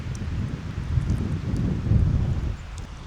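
Strong wind blowing down a river valley buffets a microphone fitted with a small wind muff, giving loud, continuous low rumbling gusts with no talk.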